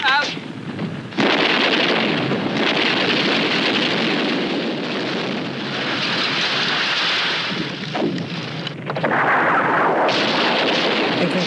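Artillery battery firing a final protective fire mission in a British Army training scenario, a sustained, loud rumbling barrage of blasts and roaring booms rolling on almost continuously, with brief lulls.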